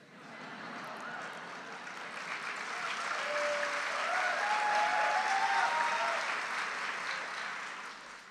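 Sustained audience applause at a medical school white coat ceremony, a broad steady wash of many hands clapping that swells through the middle and eases slightly toward the end, with no talk over it.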